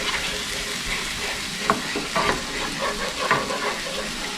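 A spoon scrapes and stirs flour into a roux in a hot pan, with steady sizzling frying underneath and a few louder scraping strokes partway through, close and continuous.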